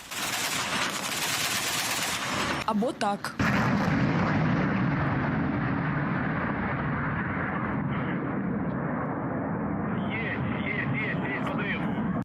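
Sustained, dense rumbling gunfire and explosions fill the whole stretch, with a brief break of sharp bursts early on and a voice speaking briefly over it.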